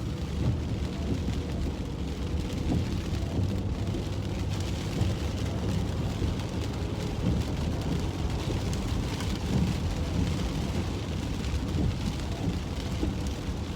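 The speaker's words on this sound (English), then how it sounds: "I caught back up to the rain." Rain and thunder at a beach: a steady, dense wash of rainfall with low rumbling underneath that holds evenly throughout, with no voices.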